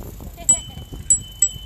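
Three short bright rings of a bicycle bell sound near a coastal spit path, spaced unevenly over low background rumble and faint murmuring.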